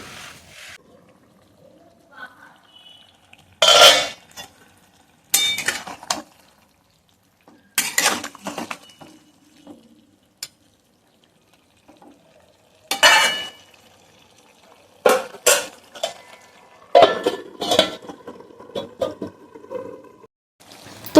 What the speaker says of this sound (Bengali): জলটা দিয়ে আমি আবারও ভালোভাবে দেখো কষিয়ে নিচ্ছি